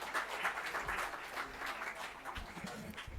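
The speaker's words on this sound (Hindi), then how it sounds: "और एक बार जोरदार तालियों से सर का स्वागत।" An audience at a Delhi government school event applauds to welcome a speaker, a soft, distant wash of clapping from many hands that holds steady for a few seconds.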